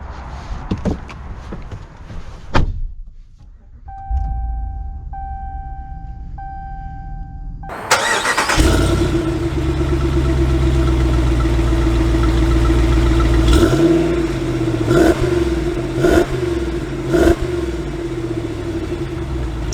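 A 2022 Ram Power Wagon truck door thumps shut, then the engine cranks and fires up, settling into a loud, steady idle with a few rises and dips of revving, close by with no talk.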